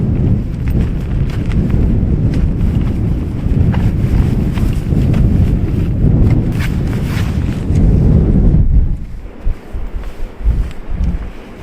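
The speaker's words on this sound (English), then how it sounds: "it's too windy." Strong gusting wind at a North Wales beach at low tide buffets the microphone, making a loud, continuous roaring rumble that eases slightly near the end. No speech is heard.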